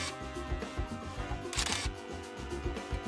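Camera shutter firing repeatedly during a summer seaside shoot on a breakwater at sunset, with several soft clicks under steady outdoor background noise.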